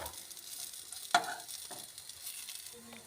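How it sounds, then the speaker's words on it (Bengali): Raw plantain fritters fry in hot oil with a faint, steady sizzle, broken by one sharp clink of a utensil against the pan as they are stirred and turned. "আমার বড়াটা প্রায় ভাজা হয়ে আসছে"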